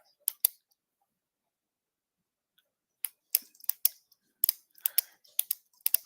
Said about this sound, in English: What is that clicking noise? Is that someone's mouse? No, it's my pen.